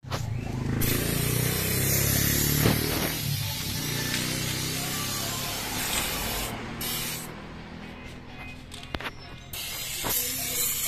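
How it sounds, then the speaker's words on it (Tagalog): A spray paint can hisses steadily while applying undercoating to a Mitsubishi Pajero, a long continuous close spray with brief pauses and small mechanical clicks. "naubusan po tayo ng Kobe na paint, na spray paint"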